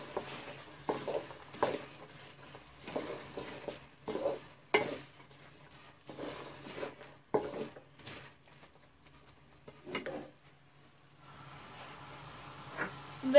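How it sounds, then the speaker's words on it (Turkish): A utensil stirs chicken macaroni in a frying pan, making soft scraping strokes in a steady rhythm, with faint sizzling underneath and the odd light clink of metal on the pan. "Biraz karıştırıyoruz."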